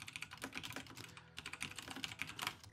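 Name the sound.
typing on a keyboard in the video game Stories Untold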